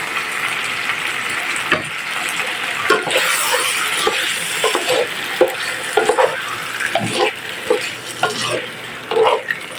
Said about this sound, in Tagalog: Lalagay tayo ng tomato sauce.